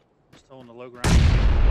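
A grenade explodes in a video game squad match, a sudden loud blast that follows brief faint voice chatter and then rumbles on to the end.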